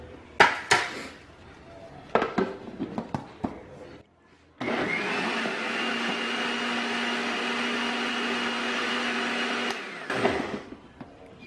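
A blender grinding black pepper, garlic and onion for lechon sauce runs in one steady, loud whirring burst of about five seconds, preceded by clatter and knocks of kitchen handling and followed by a few more clanks.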